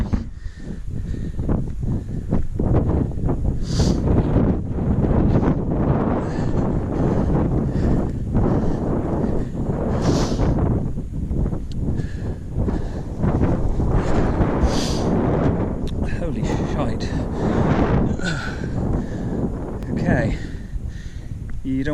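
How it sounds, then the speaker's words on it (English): Strong wind roars and buffets the microphone on a mountain ridge on Helvellyn, gusting continuously and loudly, with a voice talking underneath. "as you can hear, there's a hell of a wind up here as well, coming straight up the valley at you"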